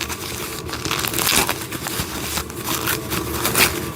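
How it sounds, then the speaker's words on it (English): Packaging around wooden toy train set pieces being unwrapped, a continuous close crinkling and rustling of wrapping with a few sharper tearing bursts, no talking. "Let's unwrap this."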